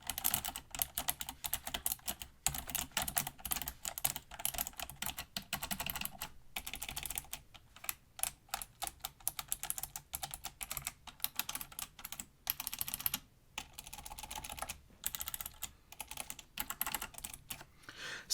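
Rapid, steady clicking of a Razer Ornata Chroma keyboard being typed on up close, a continuous clatter of keystrokes with brief pauses.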